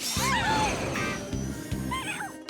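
High, sliding meows from cartoon kittens in an animated Paw Patrol episode, several cries rising and falling over busy background sound with a voice briefly present.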